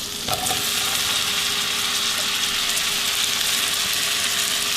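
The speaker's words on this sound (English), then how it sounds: "We're going to put in our mushrooms and onion." Mushrooms and onion sizzle loudly in a frying pan for Southern-style Salisbury steak, with a steady close crackling hiss from the start and a brief clatter of stirring early on, and nobody speaking.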